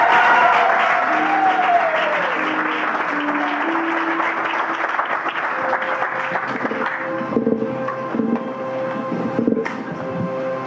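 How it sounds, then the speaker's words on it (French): A church congregation applauding loudly and steadily, with sustained clapping and some cheering over an organ or keyboard that plays held notes, with a brief speaking voice. "Et nous acclamons très fort le nom du Seigneur."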